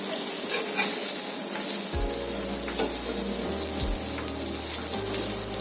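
Surmai fish fillets sizzle steadily in a hot pan on the stove as they are turned and fried, with a constant crackling hiss and occasional clinks and stirring noises throughout.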